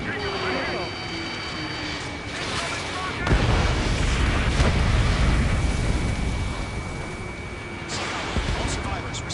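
Missile explosions in the Ace Combat game boom and rumble beneath jet engine noise and a steady electronic warning tone, with a heavy blast near the middle and another toward the end.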